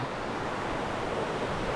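Wang Phu Kaeo, a multi-tiered waterfall in Korat, Thailand, in the hot dry season, heard as a steady, dense roar of rushing water, loud and unbroken throughout.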